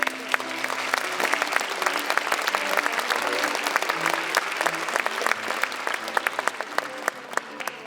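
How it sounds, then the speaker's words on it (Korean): Audience applause at a Jeonbuk National University graduation ceremony after an award announcement, many hands clapping steadily with sharp individual claps standing out, sustained at a moderate level with faint tones beneath. "큰 박수 부탁드립니다."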